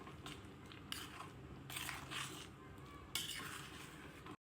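A spoon stirs vaal bean curry with kokum and jaggery in a pot, giving scraping, clattering sweeps in irregular bursts close by, with a soft sizzle underneath and no talking.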